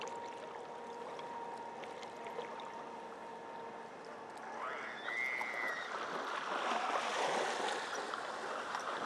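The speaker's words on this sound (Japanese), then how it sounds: "波怖いよ" Ocean waves washing in at the shore, a steady rushing surf that swells louder partway through, with a faint brief whine over the wash.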